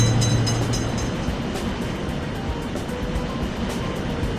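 A train rumbles steadily through a level crossing in a railroad crossing game, with a broad, constant roar and faint rhythmic clatter, loud and close.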